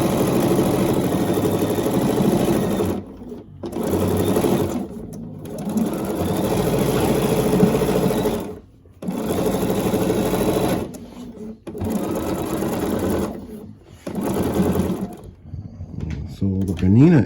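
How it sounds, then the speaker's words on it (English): A Bernina sewing machine stitches quilt strips together in steady mechanical bursts of whirring, pausing briefly between runs as the presser foot is lifted, with a person talking quietly in the background. "So the Bernina is really a sensitive machine."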